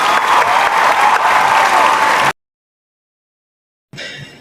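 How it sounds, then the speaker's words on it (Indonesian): Loud, dense audience clapping fills the first half, cuts off abruptly into silence, then resumes briefly near the end. "Sekali lagi beri tepuk tangan untuk kita semua"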